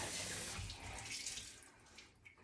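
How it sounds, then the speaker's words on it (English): Tap water runs steadily into a sink while a holey dishcloth is rinsed under the faucet, a continuous close splashing wash that tapers slightly toward the end, with no talking. "a good rinse here, make sure that it's running clear"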